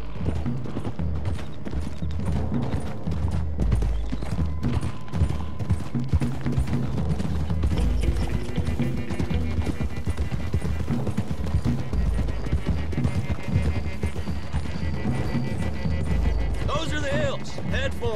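Horses gallop with clattering hooves in Red Dead Redemption 2, a dense driving rhythm under dialogue, music and wagon rumble, with a brief whinny near the end.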